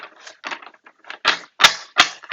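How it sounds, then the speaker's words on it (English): Tarot cards being shuffled by hand, a quick run of crisp papery riffles and slaps in uneven bursts, close and fairly loud with no talking. "I've shuffled these as well, but I'm just going to give them one more shuffle"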